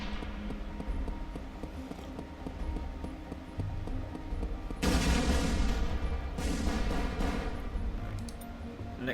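Tangent Fire weapon in ShellShock Live, a steady rumble of gunfire that breaks into a louder, crackling barrage about halfway through, followed by a second burst, with no talking.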